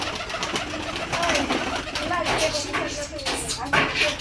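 Baby pigeon squabs coo softly in a loft, with short faint warbling calls repeated in an irregular rhythm over shuffling and fluttering noise. Someone talks in the background.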